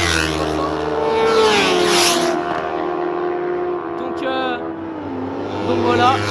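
A 1300 motorcycle at the Lédenon racetrack passes nearby with a loud high-revving engine whine that sweeps up and falls away, overlapping another engine drone, with a brief gear-shift blip midway.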